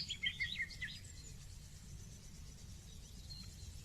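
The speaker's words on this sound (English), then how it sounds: "Birds, insects." Birds chirp and sing on an open meadow, a few clear bright calls standing out at the start before fading into a faint, steady outdoor background hum.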